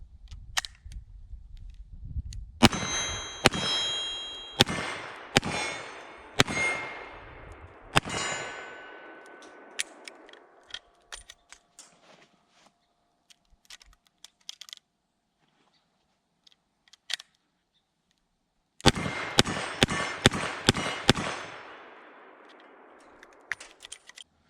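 A Ruger GP100 Match Champion .357 Magnum revolver fired at a range: one quick string of sharp cracks with metallic ringing, a pause, then a second rapid volley, close and loud.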